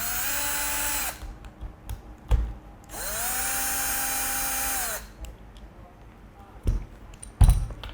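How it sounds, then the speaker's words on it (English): A powered screwdriver with a T20 bit loosening screws on a Milwaukee M18 hydraulic cable cutter: two sustained whirring bursts with pitch glides, separated and followed by sharp metallic clicks and knocks, close up. "Now we are using the T20 bit to loosen this."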